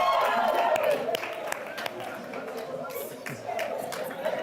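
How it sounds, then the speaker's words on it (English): An audience at a live interactive session held by an LGBTQI+ society breaks into broadband applause that starts loud and dense, then thins into scattered claps mixed with chatter and voices. "applause, ladies and gentlemen"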